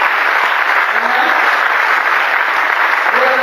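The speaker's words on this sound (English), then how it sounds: "Let's clap for the Lord." A congregation claps together at a prayer meeting, a loud, dense and steady wash of applause filling the whole stretch with no break.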